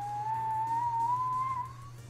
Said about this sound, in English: Kettle whistle.